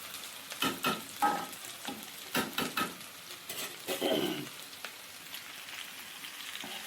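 Potatoes frying in a pan for aloo fry, close sizzling and crackling with bursts of stirring, loud clustered pops early that settle into a softer steady sizzle.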